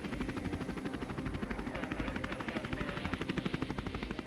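A medevac rescue helicopter thumps steadily with a rapid, even rotor beat over a roaring turbine whine, loud and close throughout, with no voices.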